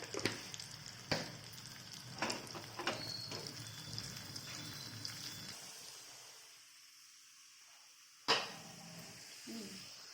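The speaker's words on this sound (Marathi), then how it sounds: "घेतलेला हा लसूण टाकूया. छान लाल रंगावरती परतून घेऊया." Garlic and a red chili frying in oil for a tempering over spinach, a crackling sizzle with spitting pops and stirring for several seconds, then a near-silent pause before a sharp burst of sizzle returns.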